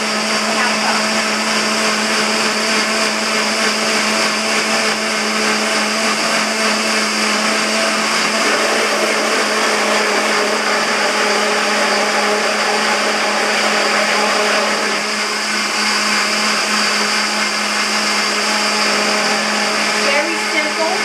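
A blender whirs steadily at high speed through rice milk, a loud, continuous motor drone with a bright whine that holds unchanged for the full twenty seconds, dipping only slightly in the middle.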